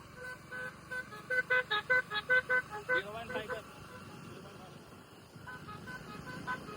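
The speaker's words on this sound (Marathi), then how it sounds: "असे हॉर्न मारायचे, हॉर्न लावायचे" A rapid run of about eight short, evenly spaced car horn toots, fairly loud against a steady background murmur, then the honking stops.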